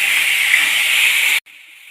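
Tomatoes frying in a hot pan for Kerala-style clam roast give a loud, close, steady hiss that abruptly drops to a much quieter sizzle near the end.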